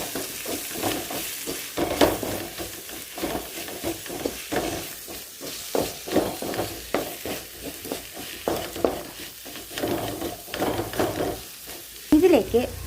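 Ground spices, Kashmiri chilli powder, black pepper and garam masala, are stirred in a hot frying pan for chickpea masala, with repeated scraping strokes over a continuous sizzle.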